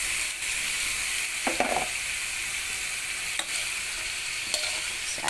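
Carrots frying in a pan for bihon guisado, a loud continuous hissing sizzle with occasional scraping strokes of a spatula stirring, close up and without talking.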